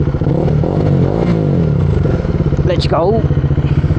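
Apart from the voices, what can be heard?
motorcycle engine starting and revving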